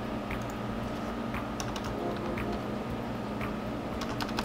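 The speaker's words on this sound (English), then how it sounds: "If I could type, that is." Someone typing on a computer keyboard while setting up a Windows server, a close run of quick, irregular key clicks over a low steady hum.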